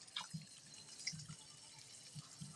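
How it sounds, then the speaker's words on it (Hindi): Radish and its leaves are washed by hand in a basin of water, with scattered soft splashes and drips coming close up and fairly quiet in an irregular rhythm. "खुले पानी में इस तरह से हम इन्हें अच्छी तरह से धो लेंगे,"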